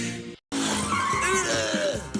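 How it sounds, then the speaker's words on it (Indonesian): A car braking suddenly with tires skidding, a sharp wavering squeal after a brief gap, loud and close, lasting about two seconds. "Kok ngerem mendadak?"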